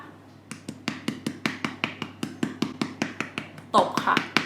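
A makeup puff or sponge pats rapidly against the face with a flicking wrist motion, Korean-style foundation application, about twenty crisp close taps in a quick even rhythm, with a little faint speech near the end.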